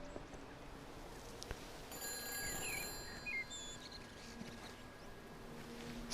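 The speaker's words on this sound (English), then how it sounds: "I can hear a phone. And it must be coming from a phone box." A telephone rings faintly inside a phone box in a quiet village setting in Everybody's Gone To The Rapture, thin electronic trills in short bursts over soft outdoor ambience, with no voices.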